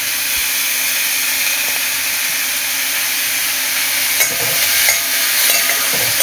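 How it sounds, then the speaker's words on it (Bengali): Whole cumin seeds fry in hot oil alongside lightly browned onion, giving a steady, even sizzle throughout, with a few utensil scrapes and clinks from stirring toward the end. "গোটা জিরাটা এর সাথে ভাজা ভাজা হয়ে যাবে।"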